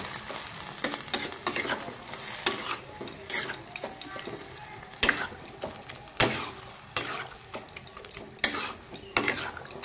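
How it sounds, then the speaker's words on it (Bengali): Sugar is stirred into a vegetable dal in a metal pot, the spoon scraping and clinking against the sides in irregular strokes over a low, steady simmer, close and fairly loud. "চিনিটা দিয়ে আমি একটু ভালোভাবে মিশিয়ে দিব"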